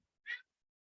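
A cat gives a single short meow, brief and fairly close, in an otherwise quiet room during a yoga session.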